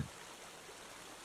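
A faint, continuous rush of flowing water from a stream sound effect runs evenly through the moment, with no voices.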